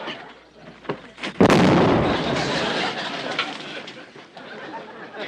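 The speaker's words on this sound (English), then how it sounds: "I just pulled a pin in this grenade, and you know what that means." A thrown hand grenade goes off in a comedy scene, a sudden loud burst followed by a long, rumbling roar of debris and noise that slowly fades.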